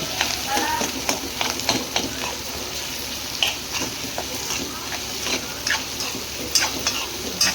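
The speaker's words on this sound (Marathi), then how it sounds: "त्याचे पीसेस केले, तसे बारीक बारीक पीस केले, ते घालूया. चांगलं हलवून घेऊ." Small pieces of boiled potato stirred in a cooking pan, with repeated scraping and clinking strokes over a constant sizzle, heard close and fairly loud.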